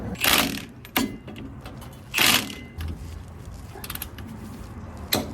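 Bolts being tightened on the rear suspension of a 1998-2004 Toyota Tacoma, with close, sharp metallic clicks and ratcheting bursts spaced irregularly over a low background hum.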